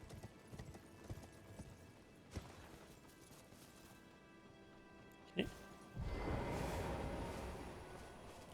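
A horse's hooves clip-clop at a steady trot in the fantasy action game Elden Ring, with a sharp thud near the end followed by a broader rushing noise, no talking.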